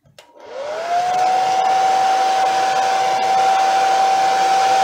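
A hair dryer starts up and blows air steadily across an acrylic paint pour, a loud close whine that rises quickly and then holds an even tone and rushing hiss with no speech.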